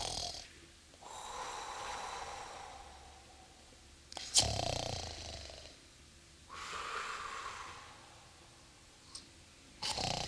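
A person mimics sleep-apnea snoring with a voice: repeated drawn-out rasping snores separated by quiet pauses, ending with sharp snorting gasps, fairly faint and close.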